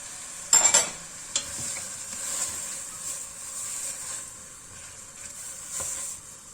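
Chopped courgette and lettuce cooking in a pot give off a steady, soft hiss and sizzle, opening with a brief close clatter as the courgette goes in, then a few faint knocks.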